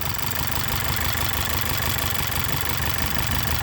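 A VW/Audi 2.0T engine idling rough with a coil unplugged and misfiring, a steady close drone with uneven low thumps throughout and no talk.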